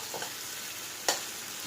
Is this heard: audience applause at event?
no